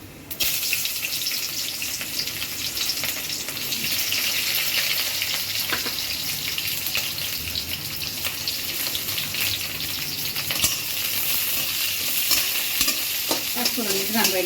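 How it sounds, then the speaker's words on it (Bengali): Chili and onion hit hot oil seasoned with panch phoron, giving a loud, continuous sizzle and crackle with occasional stirring clatter, alone and without talk. "এখন আমি মরিচ পেঁয়াজটা দিয়ে দিই।"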